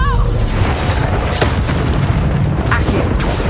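A Confringo fire spell bursts in Hogwarts Legacy, a dense low boom that rolls on under steady game noise with a few short impact flares, and a voice is heard faintly underneath.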